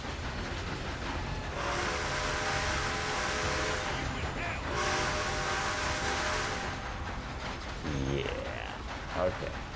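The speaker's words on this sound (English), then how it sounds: "So we've robbed the train and we've tooted the whistle." A steam locomotive's whistle in the Red Dead Redemption 2 video game, sounding as two long, loud, steady harmonic blasts over a rumbling moving train, with a voice speaking briefly near the end.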